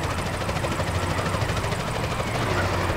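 Helicopter in GTA San Andreas, a steady loud rotor and engine drone with rapid low chopping throughout, no talk.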